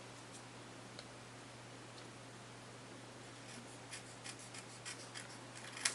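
Quiet snips of scissors trimming the edges of cardstock for a stamped card, small crisp cuts that grow more frequent toward the end over a faint steady hum.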